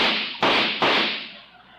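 Sputtering, noisy old car from the Great Gildersleeve radio comedy, heard as three loud broadband bursts in an uneven rhythm, the last fading into a rough rumble.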